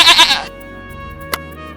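A goat gives a short, loud bleat at the start, followed by a quiet stretch and a single soft click.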